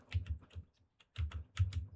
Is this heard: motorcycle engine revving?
no